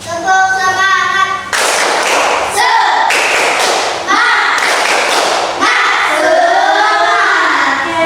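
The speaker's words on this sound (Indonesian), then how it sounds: "Tepuk semangat." Schoolchildren in an elementary classroom clap out a rhythmic group spirit clap, a run of loud, sharp claps and thumps in a patterned beat. A teacher's voice and the class's voices come before and after.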